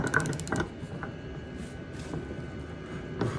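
A torque wrench tightening a bolt during a clutch kit install on a Yamaha Grizzly 700 ATV, giving a few close metallic ratcheting clicks and a creak over a low garage hum, with no talking.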